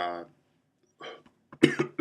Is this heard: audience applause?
no